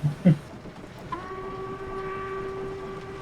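A model pannier tank steam locomotive runs on a garden railway, with two short bumps at the start, then a steady tonal whistle-like hum and rolling rumble held at moderate level.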